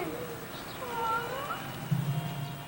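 Inside a car on a 1994 road trip, an unhappy cat gives a few faint, drawn-out plaintive meows over low road noise.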